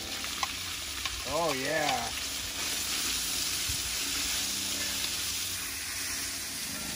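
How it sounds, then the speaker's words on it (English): Cut-up bacon pieces go into hot olive oil in a cast iron pot on a King Cooker and fry with a steady, close sizzle and crackle; someone briefly speaks over it. "I have a pack of bacon I've cut up here. We're gonna throw in here."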